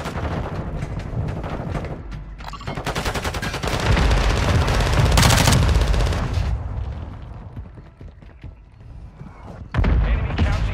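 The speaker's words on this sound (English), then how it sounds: "Friendly mortar strike inbound" Call of Duty Warzone 2 match on Ashika Island: dense rattling machine-gun bursts and rapid firing build into a loud, sustained barrage with heavy booming impacts, easing off before another sharp burst near the end.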